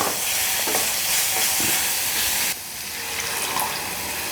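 Water poured into a sizzling pan of ghee and spices, producing a steady hiss of frying with stirring scrapes; the sizzle surges louder partway through as the liquid hits the hot fat.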